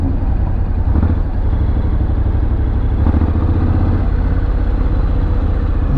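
Several motorcycle engines idle and rev on a city street at night, a steady, loud, close rumble with clattering mechanical texture and no pause.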